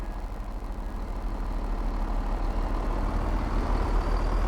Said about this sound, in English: First impressions of the engine, that doesn't sound too With bad.